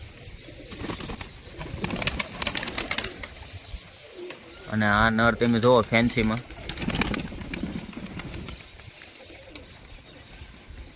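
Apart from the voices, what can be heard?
pigeons cooing in their loft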